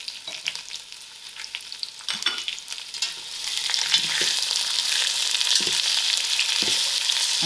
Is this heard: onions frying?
yes